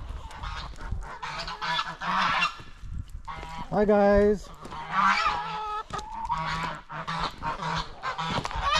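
A flock of geese honking repeatedly at close range at a pond, with one loud drawn-out call in the middle, while a person greets them briefly.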